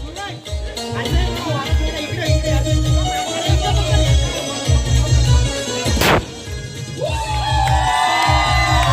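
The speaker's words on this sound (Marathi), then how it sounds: "जोरदार तुम्ही टाळ्या वाजवायच्या आहे" A large crowd at a Hanuman Janmotsav lucky-draw celebration in Rawalgaon claps and cheers loudly and continuously, with shouts and whoops rising over the din and a sharp burst midway.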